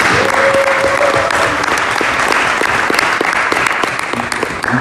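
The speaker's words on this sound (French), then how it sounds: "on peut applaudir encore plus fort." Applause from a church audience at a gospel event, a loud, dense wash of clapping filling the space steadily for the whole stretch, with a faint voice briefly audible beneath it.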